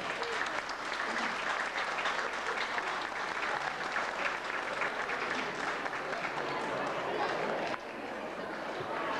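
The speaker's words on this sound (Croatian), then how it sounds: "Nagradite jednim aplauzom profesora Amira Čamparu" A large audience at an evening donor gathering at a mosque in Vlasenica applauds a professor, with dense, steady clapping that continues for several seconds and eases slightly near the end, with faint crowd murmur underneath.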